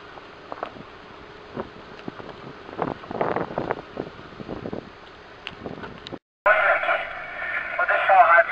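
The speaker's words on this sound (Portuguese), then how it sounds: "Vou deixar o rádio escaneando aqui" A radio scanner picking up transmissions at a repeater maintenance site on a hilltop, with faint crackly voices and static bursts, a brief dropout, then a louder noisy hiss of open channel.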